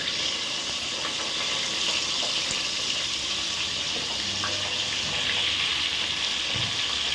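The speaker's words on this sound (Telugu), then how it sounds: "ఇప్పుడు నేను ఈ క్యాబేజీ కొంచెం లైట్గా ఫ్రై చేస్తాను." Cabbage frying lightly in hot oil for vegetable pulao gives a steady, even sizzle and hiss that runs unbroken throughout, close by and with no talking.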